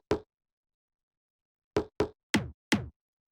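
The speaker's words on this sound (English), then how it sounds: "the last layers that we have down here are these two little percussions" Two small percussion layers from a tech house track give dry, short knock-like hits: one isolated strike, a long silence, then a quick cluster of four clicky thuds, close and clean.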